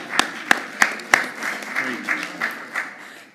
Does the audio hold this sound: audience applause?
yes